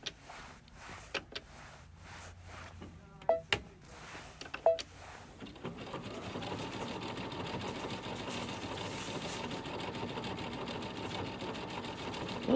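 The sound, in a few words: Brother Luminaire embroidery machine sewing a taper stitch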